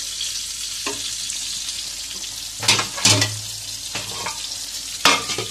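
Masala with chili powder, salt and turmeric is sautéed in a pan for fish curry, giving a steady close sizzle with several sharp bursts of stirring and scraping.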